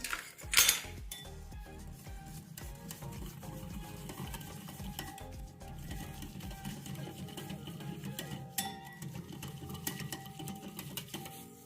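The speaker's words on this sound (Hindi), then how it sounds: "और इसको करना है अच्छे से मिक्स।" A spoon stirs water into gram flour in a bowl, making a steady scraping, sloshing mix of batter at close range. One sharp clink comes near the start, then the stirring continues without talk.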